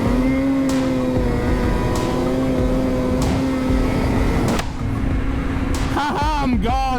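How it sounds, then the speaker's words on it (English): Polaris Indy snowmobiles in a drag race on a snowy trail, a loud sustained engine drone with a steady pitch held close, then a brief dip before the note wavers and shifts near the end. "we're doing a race between the Polaris Indy and my twin over here"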